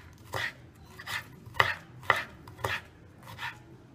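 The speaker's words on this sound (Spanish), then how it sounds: "Súper, súper fino, por eso tiene que cortar el cuchillo." A knife finely dices bell pepper on a cutting board for a refrito, seven crisp, evenly spaced chops close up, with no talk.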